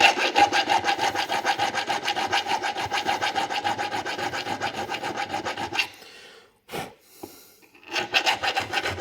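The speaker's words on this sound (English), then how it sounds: "You can also use a round file and put a slight bevel or chamfer 45 degrees to the flat face of your brass" A round file cuts a slight 45-degree bevel into a flat brass face, giving steady, loud back-and-forth rasping strokes in a fast even rhythm that stop briefly near the end, then resume.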